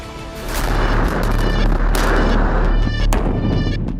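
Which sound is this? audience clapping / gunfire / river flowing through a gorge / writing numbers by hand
gunfire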